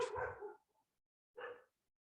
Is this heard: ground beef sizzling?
no